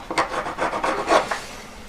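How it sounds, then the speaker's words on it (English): Metal file rubbing gently back and forth inside a metal ring while stamping the ring's inside, quick close scraping rasps in a short rocking rhythm. "I would gently put my saw blade over it, file blade over it"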